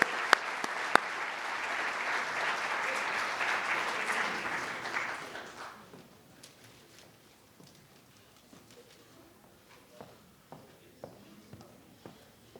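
Audience applause at a community enhancement awards ceremony, a steady clapping crowd for about six seconds that fades into a few scattered individual claps and quiet room noise.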